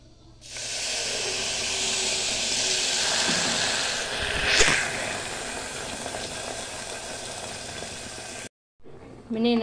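A pan of sugar and pineapple caramel syrup boils on the stove, giving a steady loud hiss and bubbling that holds for several seconds before cutting off, with a voice speaking faintly.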